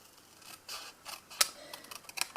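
Scissors snip through striped paper in a quiet series of short, crisp cuts with small rustles between them, close and soft with no talking.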